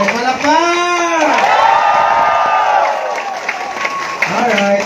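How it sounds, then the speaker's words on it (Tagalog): An audience in the Philippines breaks into loud applause mixed with shouts and cheering, a dense, sustained burst from a crowd close by that swells, holds and tapers off after a few seconds. "Okay, palakpak!"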